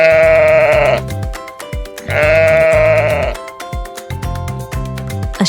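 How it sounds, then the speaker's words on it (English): Two loud, wavering sheep bleats ring out close up, separated by a short pause, over playful background music with a steady beat. "A sheep."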